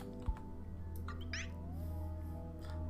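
A cat gives a short meow in the video game Rumu, a faint call over a low ambient game hum with a soft thump at the start.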